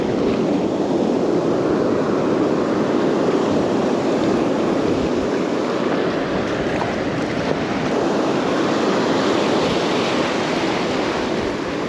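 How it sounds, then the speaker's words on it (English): Heavy surf roars continuously on a beach, a loud, steady wash of big breaking waves with wind buffeting the microphone throughout. "Wow, those waves are big."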